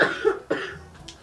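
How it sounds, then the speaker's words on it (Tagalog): A man coughs twice in quick succession, close and loud, with a faint throat sound trailing after during a home meal. "hanggang ngayon, tagal na niya ubo mo"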